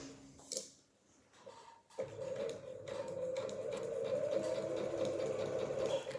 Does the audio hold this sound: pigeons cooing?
no